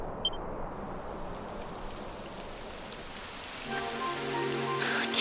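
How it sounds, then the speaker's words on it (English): Steady rain in the video game Dragon Quest IX, a continuous soft hiss of drops falling throughout, with a few faint electronic beeps and a rising musical tone near the end. "It would have to go and start raining, wouldn't it?"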